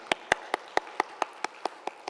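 Hands clap in a steady, even rhythm during a Sunday evening church worship service, each crisp clap distinct and fairly faint against a quiet room.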